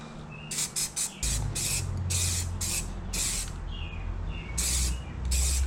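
An aerosol can spray-paints the wheels of a Dodge Dart with black stainless steel paint in a series of short, sharp hissing bursts, followed by longer sprays over a low background hum.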